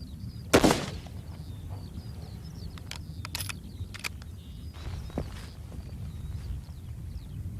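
A single sharp sniper rifle crack from a Royal Marines shooting exercise at 200 meters rings out early, followed by quiet ambience with faint clicks and handling noises.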